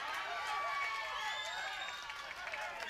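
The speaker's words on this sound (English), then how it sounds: "You can hear the crowd cheering" Crowd cheering and shouting at an amateur boxing club show, a steady roar that fills the hall with whistles rising through it, and a commentator talking over it.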